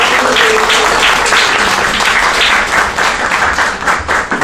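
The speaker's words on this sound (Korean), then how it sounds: "네, 박수 한번 치고 들어가겠습니다." An audience at a poetry reading in a café breaks into sustained applause, many hands clapping densely and loudly throughout with no one speaking.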